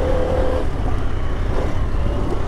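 A 2022 Harley-Davidson Pan America motorcycle ridden hard over a rocky, bumpy road, its engine a steady, loud roar mixed with constant rumble and wind noise throughout.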